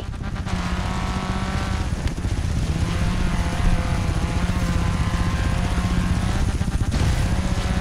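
Helicopter in the racing game Forza Horizon 3 carrying a jeep: a steady, dense rotor and engine drone with rhythmic chopping pulses runs throughout at constant loudness, with no talking.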